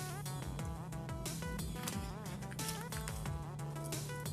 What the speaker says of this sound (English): there's just a ton of bees here right now